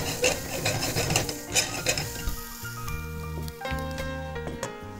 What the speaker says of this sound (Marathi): भोपळी मिरची चांगली परतून घ्यायची त्यामध्ये